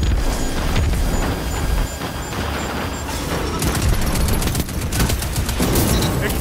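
Rapid gunfire and explosions from the video game Destiny 2, played as a low-level Warlock; dense bursts of shots and booming blasts fill the whole stretch, with sharp cracks clustering toward the end.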